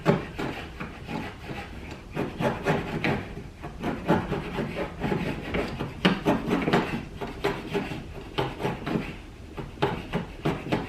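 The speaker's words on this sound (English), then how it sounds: "I let the chisel do it, and it frees the grain to come loose" Steel chisel paring and shaving wood grain, a steady run of rough scraping strokes, close and fairly loud, without talk.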